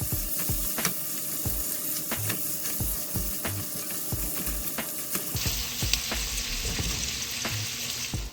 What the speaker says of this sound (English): I'm going to cook these until the onions become soft